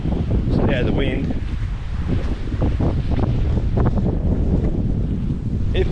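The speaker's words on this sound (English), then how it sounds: "Yeah, the wind." Strong wind buffets the microphone in a continuous rumbling roar while out fishing from a small tinny boat on the water, with faint water movement and a voice briefly speaking over it.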